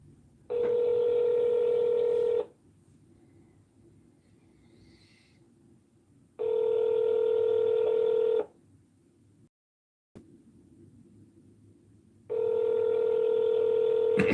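Three long, steady electronic telephone tones sound during a Google Voice call, each lasting about two seconds and separated by quiet gaps, clear and moderately loud against a faint line hiss.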